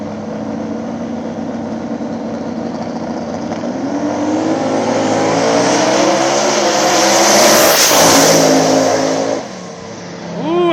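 Small tire race cars roar around an Ohio dirt track outside Columbus, their engines swelling louder as the pack nears and sweeps past close by, then fading away.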